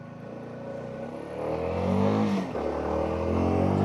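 A CLX 250 motorcycle being ridden on a street, its engine rising in pitch as the throttle opens, close and steady with no talk.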